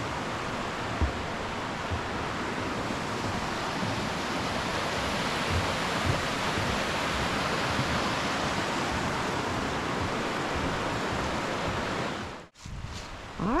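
Constant rushing of Laurel Creek in Laurel-Snow State Natural Area, a dense, even wash close by that continues unbroken, briefly dipping near the end before resuming.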